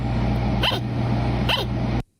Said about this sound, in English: That's an angry sugar glider.